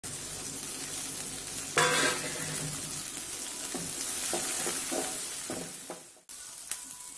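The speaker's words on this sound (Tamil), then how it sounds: "நல்லா வதக்கிக்கலாம்." Onions sizzle and fry in a hot pan of tempering oil, a steady crackling hiss broken by occasional stirring clinks and scrapes.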